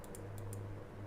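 Four short, crisp clicks in quick succession within the first half second, then quiet, close and fairly faint, sounding like a computer mouse being right-clicked during a flight simulator session for the Piper Aerostar.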